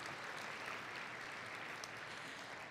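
Steady, dense applause from a conference audience thanking a corporate sponsor fills the whole stretch at an even level, with no voice rising above it.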